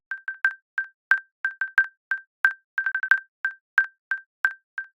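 Sine wave sample played through a vocoder, a string of short, clean, identical pitched beeps in an irregular staccato rhythm, dry and alone with silence between each hit.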